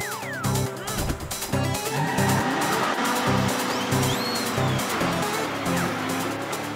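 In a Motu Patlu cartoon chase, a truck speeds along with a busy, loud engine and road rush. Whistling and sliding cartoon effects and background music layer on top.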